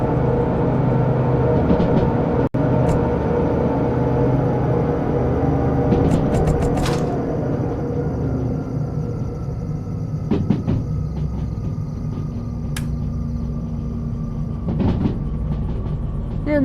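A locomotive in the train simulator Derail Valley rumbles along the rails, with scattered clanks and sharp metallic squeals as the wheels slip, a continuous mechanical drone with no talking.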